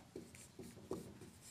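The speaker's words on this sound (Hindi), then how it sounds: "यहां लिखेंगे" A math solution is written by hand, giving a few soft, close scratching pen or chalk strokes in a quick, uneven rhythm. The strokes are faint and there is no talking over them.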